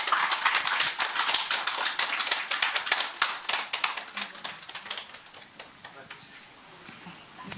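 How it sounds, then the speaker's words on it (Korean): A small audience at a monthly women's association lecture in Seoul gives welcoming applause for the lecturer, a burst of close, crisp hand claps that is busy at first and then thins and fades toward the end. "박수로 맞이해 주시기 바랍니다."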